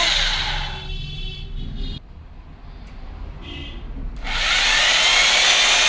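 An Eastman EHD-026 rotary hammer drill whirs loudly at close range, stops and eases down in the middle, then revs back up to a harsh, high-pitched run.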